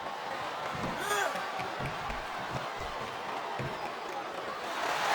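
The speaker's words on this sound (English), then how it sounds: "It sounds like this guy has some crowd somehow behind Taz." Steady crowd roar with scattered cheers and impacts in the wrestling video game WWE SmackDown vs Raw 2007 during a steel cage match, a commentator-style voice talking over the continuous background noise.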